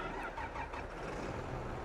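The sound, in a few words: tractor engine in farming video game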